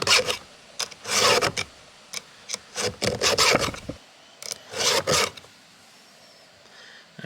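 A hand file rasps across chainsaw chain teeth to sharpen them, in bursts of short strokes and a few longer scrapes, fairly close, with pauses between groups and a quieter stretch near the end.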